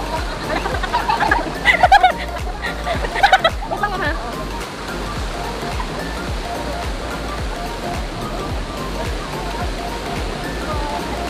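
Balaybayin Falls in Berong, Quezon, Palawan rushes with a strong current, a steady loud roar of falling water close by, with brief excited voices near the start.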